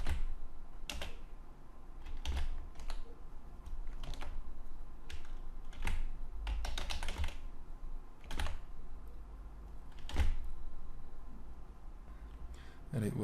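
Keys tapped on a computer keyboard while PHP code is entered, scattered clicks and short bursts of typing at close range over a low room hum, with no talk.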